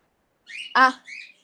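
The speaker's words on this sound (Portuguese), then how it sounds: "Pior que nem tem como tirar o som do passarinho, porque que ele tá aqui e ele tá agitadinho" An agitated pet bird squawks indoors, giving a short burst of three harsh calls with the loudest in the middle. The bird is close and there is no other sound around it.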